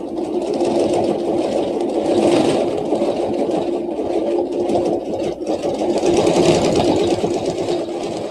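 A sewing machine stitches a quilt with a steady, continuous mechanical whirr that runs close and fairly loud for the whole stretch, with slight swells in intensity.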